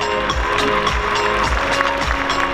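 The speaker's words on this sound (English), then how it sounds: "Huge round of applause for Rusher." At a Dreamhack 2022 cosplay contest, the audience applauds a cosplayer with loud, continuous clapping and crowd noise over a steady thumping music beat.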